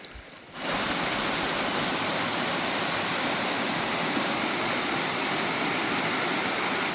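A river rushes beneath trees in the Fautaua valley on Tahiti, a loud, continuous broadband roar of flowing water that starts abruptly and holds steady, close by with no voices.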